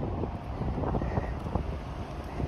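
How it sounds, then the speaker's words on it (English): Wind gusts steadily across an outdoor hospital campus, a constant broadband rumble that buffets the microphone for the whole stretch, with no voice over it. "this is why you gotta be very careful in the wind"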